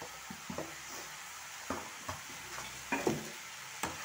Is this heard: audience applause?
no